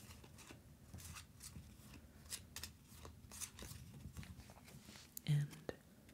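A deck of game cards for the Tiny Epic Defenders board game being shuffled at a table, soft repeated riffling and rustling bursts close to the microphone, quiet and intimate, with a slightly louder knock near the end.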